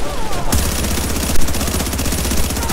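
Gunfire in The Division plays as dense, loud, continuous automatic shooting during a farming session, with the rapid shots packed tightly together and no talk.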